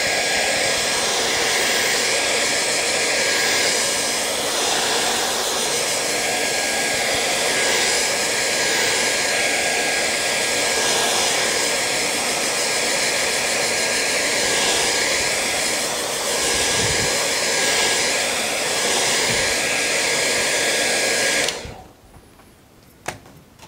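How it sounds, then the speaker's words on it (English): A hair dryer blows steadily on a watercolour painting, a loud continuous whirring hiss that holds for about twenty seconds before cutting off abruptly, leaving near quiet. "Let's give it another blast on the air dry, make sure it's totally dry."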